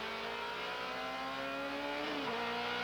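Onboard a Rolex Sports Car Series race car driven by Bill Auberlen lapping Mont Tremblant: a loud, steady engine note held at high revs, then a quick downshift with the pitch dropping sharply near the end, with no talking.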